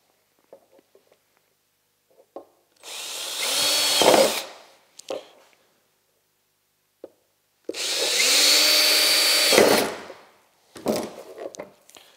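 A power drill bores extra holes into a Ski-Doo Elan snowmobile ski runner in two loud bursts of a couple of seconds each, with the motor whining up and down, separated by quiet clicks and handling knocks.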